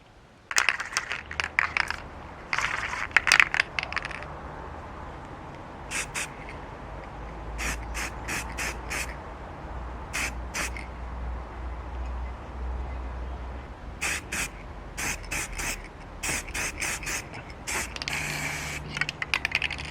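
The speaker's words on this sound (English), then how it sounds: "I'm going to try and spray the top coat" Spray paint goes on radio parts as a top coat in a darkening outdoor workspace: repeated short hissing bursts from a spray can, with pauses between them and a low background hum.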